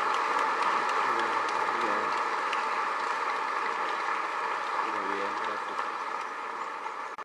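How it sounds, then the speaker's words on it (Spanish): An audience at an anniversary Mass claps with steady, mid-level applause. A low tonal hum runs beneath it, and the clapping tapers off toward the end. "Muchas gracias y fuertes aplausos para él."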